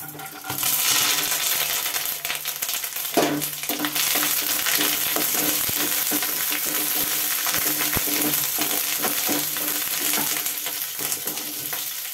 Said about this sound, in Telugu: నూనె మరిగిపోయింది. కోపు దినుసులన్నీ వేసుకుందాం. మినపప్పు, శనగపప్పు, జీడిపప్పు, ఆవాలు, కరివేపాకు.